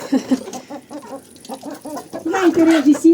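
Hens clucking in a cold farmyard coop in winter, a run of short repeated clucks and calls, fairly close and moderately loud, building into a louder, more continuous vocal stretch near the end.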